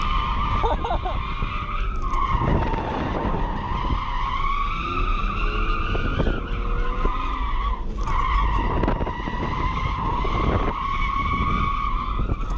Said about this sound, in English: Greg's like shockingly really good at drifting